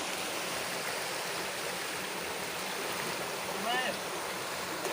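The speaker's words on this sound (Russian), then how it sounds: "Потом дальше водопад продолжается." Water rushes continuously from a waterfall into a stream, a broad, even hiss of flow with no pauses, fairly close, with a faint brief voice-like sound near the end.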